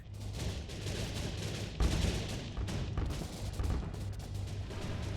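Missile fire in the video game HyperVelocity, a series of repeated launch bursts and booms over a steady low engine hum, fairly faint and evenly spaced.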